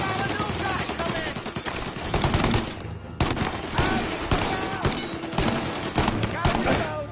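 Rapid gunfire in the video game Mafia Definitive Edition, dense bursts of automatic shots and heavy reports crackling almost without pause, with a brief lull midway before the barrage resumes.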